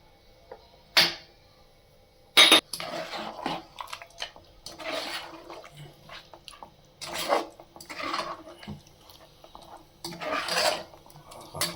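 Homemade mutton masala is stirred into mutton chops in a pan, with scraping and rubbing strokes of a spoon against the metal in irregular bursts, close by, with quiet gaps between strokes.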